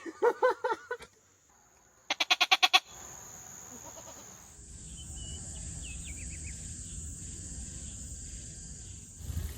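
A voice imitates a goat's bleat: a short run of wavering bleat-like calls, then a quick burst of rapid stuttering ones, followed by a steady outdoor hum and insect buzz.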